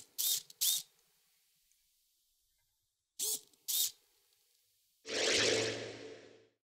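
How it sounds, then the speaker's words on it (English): A couple of servo motors driven by a Raspberry Pi make two pairs of quick, close whirring bursts, then a longer, louder buzzing sweep that fades out, with no one talking. "here, as you can see, it's controlling a couple of servos, bringing them to life"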